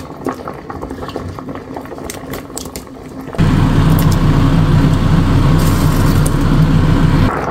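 Coconut milk stew with cassava and sweet potato boils loudly in a pot, a steady dense bubbling that starts quieter and swells sharply partway through, continuing without talk.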